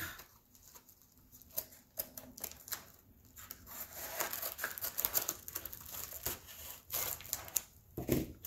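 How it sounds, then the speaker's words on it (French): Scissors cut into a parcel holding a diamond painting tray, with close crinkling, rubbing and snipping of packaging, a busy run of irregular clicks and rustles that grows denser midway. "il me faut un ciseau parce que je n'arrive pas à l'ouvrir"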